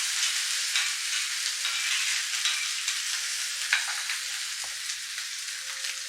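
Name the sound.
onion and green chillies frying, being stirred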